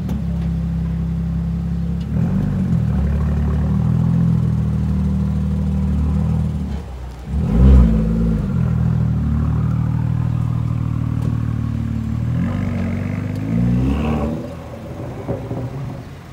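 A Ferrari 430 Scuderia engine runs close by with a deep, steady rumbling idle, broken by several sharp throttle blips that swell and fall back, with no one speaking.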